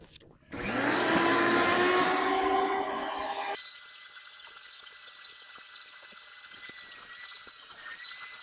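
A loud vacuum cleaner whirs steadily for a few seconds, then its pitch drops and the suction weakens to a thinner, quieter hum.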